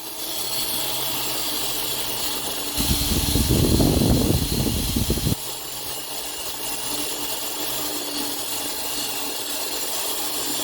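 Steady hiss of a power tool at a carving station during final polishing of fire agate, with a louder burst of grinding contact for a few seconds midway before settling back to the running tool.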